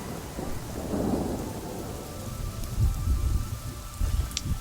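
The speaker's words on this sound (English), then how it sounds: "Fuck you, lightning, and fuck you, rain." Rumbling thunder rolls over steady rain in the real-time strategy game Ballads of Hongye, with deeper rumbles swelling near the middle and end of the stretch.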